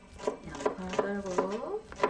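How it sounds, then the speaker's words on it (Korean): An onion chopped with a knife on a board, about five evenly spaced knocking cuts with a soft tonal voice murmuring underneath. "양파 썰고"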